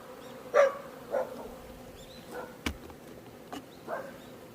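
Honeybees buzzing around a beehive outdoors in autumn, with faint intermittent hums and a few brief louder passes of individual bees against a quiet background.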